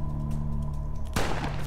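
A single loud shotgun blast bursts out in the gothic-western twin-stick shooter West of Dead, breaking suddenly through a steady low droning hum.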